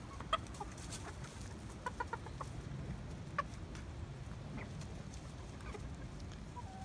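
Hens cluck softly and intermittently in an outdoor setting, a few short calls scattered over a low background hum.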